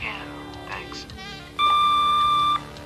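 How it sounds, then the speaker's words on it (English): An answering machine gives a single steady electronic beep about a second long before message recording starts, loud and clear after a short stretch of quieter background sound. "Leave a message after the beep"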